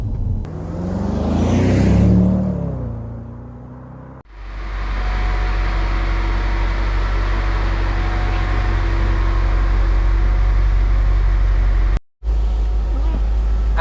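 Audi C5 RS6 car engine droning steadily and loud at close range while driving, after a short opening of muffled voices and movement; the sound cuts out briefly near the end, then the engine hum resumes.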